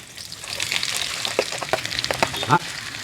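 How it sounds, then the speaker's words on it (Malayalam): Chopped onions drop into hot oil in a pan for chicken curry and start a steady, close sizzle, with crackling bursts and a louder spit near the end. "എണ്ണ ചൂടായിട്ടുണ്ട് അപ്പോൾ നമ്മൾ ഈ സവാള നമുക്ക് അരിഞ്ഞ് വെച്ച് സവാള ഒഴിച്ച് കൊടുക്കുക"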